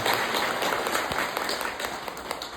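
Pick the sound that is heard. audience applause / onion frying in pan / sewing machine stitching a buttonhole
audience applause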